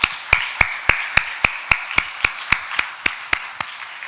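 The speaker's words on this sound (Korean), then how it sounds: "모두에게 한번 감사의 박수를 하겠습니다" A church congregation at a Sunday service claps in thanks. The claps are crisp and evenly spaced, about fifteen of them in a steady rhythm, with the hands striking together in near unison.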